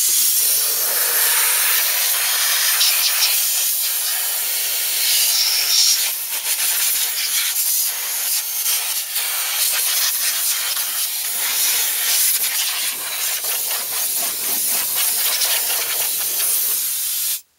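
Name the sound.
air hose blowing dirt from spark plug holes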